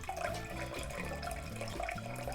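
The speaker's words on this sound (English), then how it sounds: "you're going to pour the cocktail slowly into 4 ounces of milk" A Jungle Bird cocktail poured slowly into cold whole milk, a soft continuous trickle of liquid that is quiet and close and steady throughout, with no talk.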